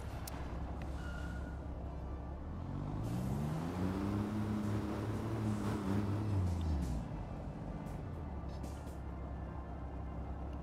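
A Kenworth three-axle semi truck in Construction Simulator runs with a steady low engine drone, its pitch sweeping up then back down over several seconds as if revving or shifting, quiet and continuous throughout.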